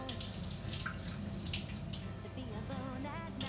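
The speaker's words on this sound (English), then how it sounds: "Then of course dump out the water" Water poured out of a tea kettle after cleaning with lemon, salt and ice, splashing steadily into a sink for a few seconds with no talking.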